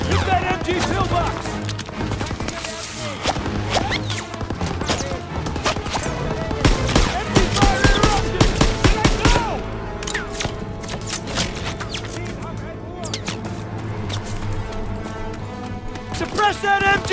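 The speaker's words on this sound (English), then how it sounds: "You gotta suppress the machine gun!" Machine gun fire from an MG pillbox in Call of Duty: WWII, rapid bursts of rattling gunfire mixed with other shots and battle noise, fairly loud and continuous, with shouted voices and a musical score underneath.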